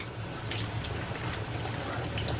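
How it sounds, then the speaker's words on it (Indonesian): Hot water is poured over pecel peanut sauce seasoning, making a faint, steady liquid splash and trickle throughout with no talking. "Ini dia bumbu pecelnya. Kita siram dengan air panas."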